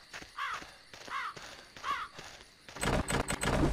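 A crow in the video game Land of the Dead gives three loud, evenly spaced caws, followed by a burst of clattering, knocking game noise.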